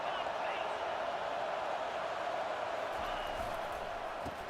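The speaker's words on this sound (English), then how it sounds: "This crowd bringing the energy and noise early." A stadium crowd in a college football video game keeps up a steady, dense roar of noise under a commentator's talk.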